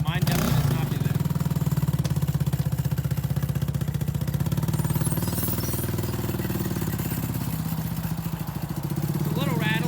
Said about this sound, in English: It's a little rattly. Chain rattles.